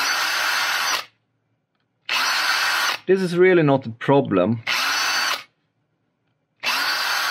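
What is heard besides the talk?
power drill drilling holes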